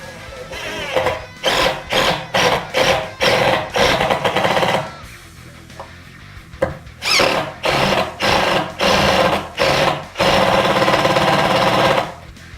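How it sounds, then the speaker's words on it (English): A power driver runs screws in to fasten a Jazz Bass guitar neck, loud repeated bursts of motor whir in short pulses, pausing between screws, with one long final run. "So grab our screws, run them in."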